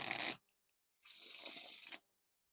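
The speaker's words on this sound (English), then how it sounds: "No issues there with the riffle shuffles." Two bursts of riffle shuffling a Dunkers deck by Organic Playing Cards: a short flutter of cards, a pause, then a longer whirring riffle, close up in quiet surroundings.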